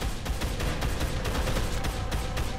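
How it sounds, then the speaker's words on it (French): Rapid bursts of gunfire in the video game Dead Island, a dense, continuous fusillade of overlapping shots that stays loud throughout with no voices over it. "T'as tout le monde qui tire"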